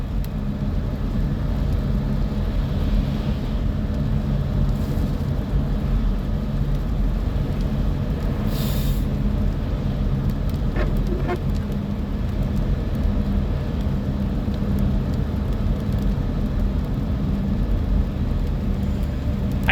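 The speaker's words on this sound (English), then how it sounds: "Here comes another logging truck." A logging truck passes on a nearby road, heard as a steady, loud low rumble of engine and tire noise that holds for about twenty seconds without a clear rise or fade, with no one talking.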